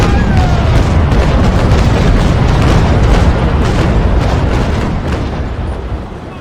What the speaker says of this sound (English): Those 24-pounders are actually doing some crew damage already.